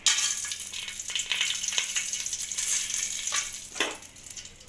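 Cardamom, cinnamon and cloves sizzle in hot ghee in a cooking pot, a bright continuous frying hiss with scraping stirs and a louder stir near the end, no voices.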